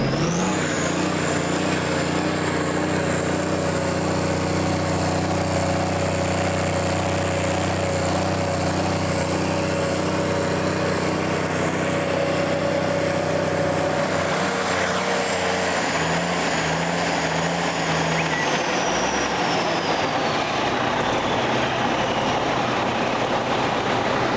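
A heavy Big Cam Cummins diesel engine in a Versatile 935 tractor runs steadily at a constant drone with a high whine, then the pitch shifts and drops as it changes speed.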